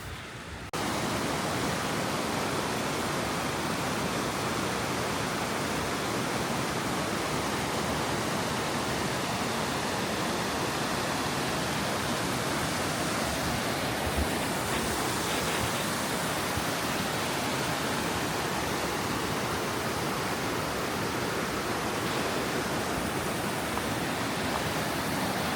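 River water rushing beneath a footbridge on New Zealand's South Island, a steady broadband roar that stays loud and continuous throughout with no voices over it.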